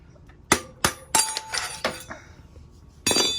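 A hammer taps a part out of an Enduro Engineering motorcycle axle: five or six sharp metallic clinks at an uneven pace, close and fairly loud, each ringing briefly, with no one speaking.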